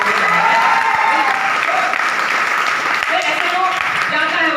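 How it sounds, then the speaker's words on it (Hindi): Enthusiastic audience applause fills a hall at a motivational closing talk, a loud continuous roar of clapping with voices mixed in underneath. "मेरे लिए भी बजा दो एक बार ताली"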